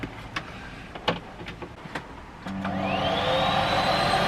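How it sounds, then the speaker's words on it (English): A hoover is switched on inside a VW T6 camper van on electric hook-up: after a few clicks and taps, the motor whines up and settles into a loud, steady roar close by. "we'll be able to plug our hoover in and have a tidy up"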